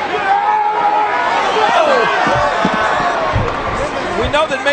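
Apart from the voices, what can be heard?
wrestling crowd trying to start a May 19th chant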